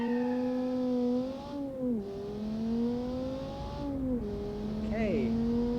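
Marquez 40 wagon with a naturally aspirated 375-horsepower V10 in a racing video game, engine droning steadily and rising and falling in pitch through revs and gear changes, loud and continuous.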